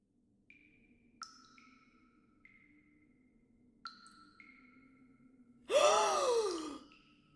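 Sunset, a pony, wakes with a sharp gasp: one loud, brief, breathy burst near the end, after a few faint, high chirping tones in near silence.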